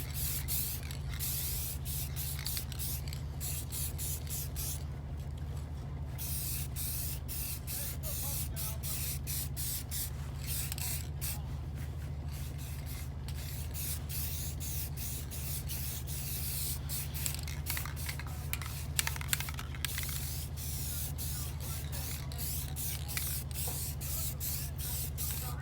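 An aerosol can sprays black paint onto a car bumper during repair, a steady hiss lasting the whole stretch with brief pauses between passes, close to the microphone and without talking.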